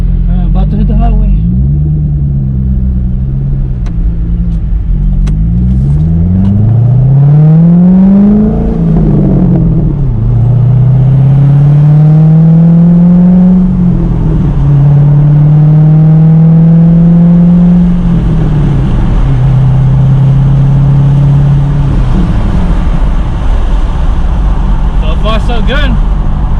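A C6 Corvette engine accelerates hard onto a highway, its loud exhaust note rising through several gear changes with falling pitch between shifts, steady and close for the whole stretch.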